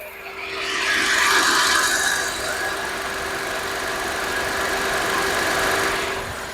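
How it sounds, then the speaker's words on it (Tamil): A Renault Kwid hatchback engine idles steadily nearby, a constant hum with a faint high whine and a light raspy texture, no voices. "கண்டிப்பாக இன்ஜின் நாய்ஸ் கேட்டிருப்பீங்க"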